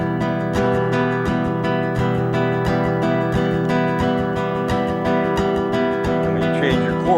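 A classical guitar strummed steadily up and down, giving an even run of bright, ringing chord strokes that sound close and loud with no talking.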